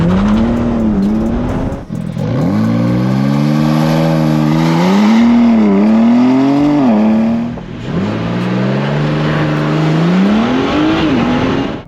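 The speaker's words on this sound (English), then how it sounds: "Number 2, it has a wicked launch control." A BMW G80 M3 xDrive makes a launch-control acceleration, its engine roaring loudly and close through rising gear pulls with brief drops at each shift, then a fresh climbing pull after a short pause.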